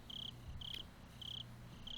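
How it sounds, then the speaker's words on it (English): Crickets chirp in the visual novel game Higurashi, with sharp high trills repeating at a steady rhythm over a quiet low hum, fairly faint, and nobody talking. "I could hear the crickets."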